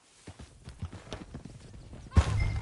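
Horses in Red Dead Redemption 2 clop along with a steady rhythm of hoofbeats, then a sudden louder whinny and a rougher burst of hoof noise close by near the end.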